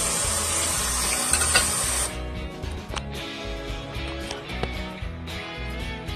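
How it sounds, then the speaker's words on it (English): Cold tap water gushes over cooked broccoli in a colander, a loud bright hiss for about two seconds that cuts off sharply, leaving soft drips and faint clatter behind. "we're just going to run some cold water over it"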